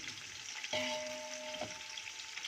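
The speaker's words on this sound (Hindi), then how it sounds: "थोड़ी देर फ्राई करेंगे इनको" Ingredients for chicken yakhni pulao frying lightly in a pot, a soft continuous sizzle with a brief tonal ring from the pot partway through, quiet and without any voices.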